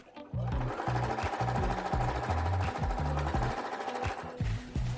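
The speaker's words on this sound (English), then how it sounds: "So we're going to sew like this on both sides." A sewing machine stitching fabric scraps, running in close, loud rhythmic bursts of needle thumps with brief pauses between runs.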